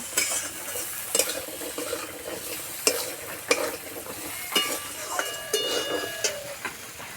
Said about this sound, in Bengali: মশলার সঙ্গে আলু ভালো করে ভেজে নেব।